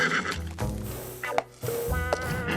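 Cartoon horse Jolly Jumper lets out two shrill, quavering whinnies in quick succession, loud and close over a busy animated soundtrack.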